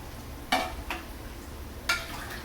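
A pot of hot noodle soup broth being stirred, with a soft bubbling hum underneath and two distinct scraping swishes of the spoon, alone and close.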